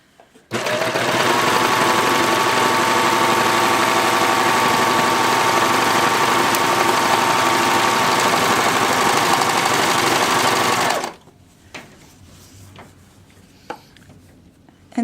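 A 4-thread overlock serger stitching elastic runs in one loud, steady, continuous whir for about ten seconds, then stops abruptly, leaving faint handling noises.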